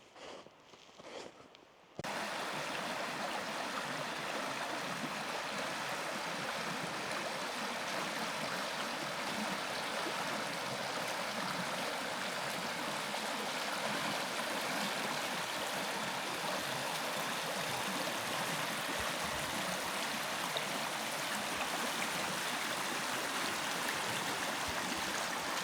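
Creek water flows steadily through a creek bottom in a Pennsylvania woodland, a continuous broadband rushing close by that carries on without a break for most of the stretch after a brief quieter opening.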